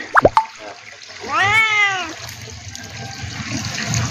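A stray cat that came from a temple gives one drawn-out, rising-then-falling meow close by, after a few sharp clicks, with water trickling steadily in the background near a fish pond.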